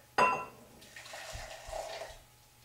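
A short clatter, then boiling water pours steadily into a measuring cup for about a second and a half before tapering off, close by with no talking.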